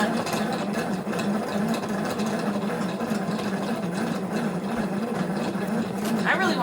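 A hand-cranked yarn winder turns yarn onto a ball with a steady whirring, rattling mechanical drone that runs continuously at moderate volume from start to finish.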